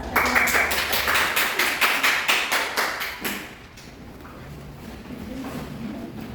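A small classroom group claps in unison with a steady rhythmic beat for about three seconds, then the clapping stops and only faint room noise remains.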